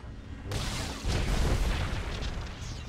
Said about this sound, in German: Geht lieber weg, hier wird gleich gesprengt.